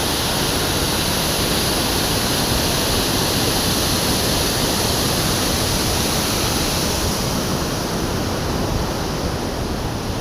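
A dense, steady roar of water rushing through the Takali Dam gates, loud and unbroken throughout, like a torrent pouring through a spillway, with no voices.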